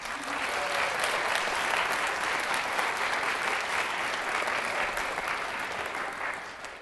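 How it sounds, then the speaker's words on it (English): Steady, dense audience applause rolls on evenly for several seconds after a wind ensemble finishes playing at a concert, moderately loud with no talking over it. "Another round of applause for them."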